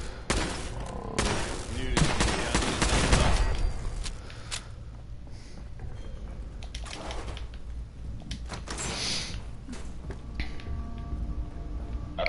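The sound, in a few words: Mark 3 turret firing in the video game Fallout 4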